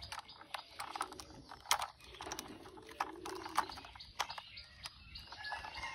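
Front wheel snapped onto a toy police car or vehicle by hand, a close, quiet series of plastic ratcheting clicks and small mechanical ticks.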